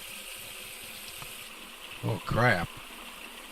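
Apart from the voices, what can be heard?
liquid pouring and spilling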